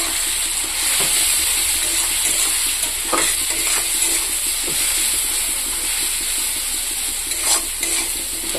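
Chili and cumin powder fry in a pan with a steady, close sizzle, broken by occasional scrapes and clinks of a stirring spoon, with no voices.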